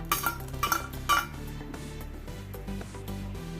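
Fried cashews and raisins go into a pot of sago caramel kheer on a gas stove, with three bright metallic clinks of a spoon against the pot, then quieter scraping and stirring.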